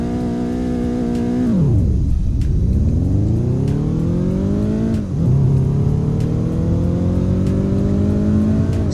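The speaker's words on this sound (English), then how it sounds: "Yeah, you hear the turbocharger, right?" Turbocharged car engine in a Roblox driving game revving up through gears, rising whine repeatedly climbing then dropping at each shift, steady and close with no talking.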